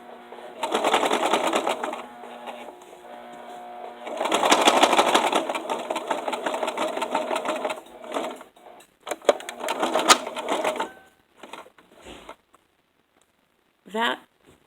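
Home sewing machine stitching a twirling dress in sustained runs, a steady close mechanical whir that stops and starts, with a voice speaking between bursts and light handling clicks near the end.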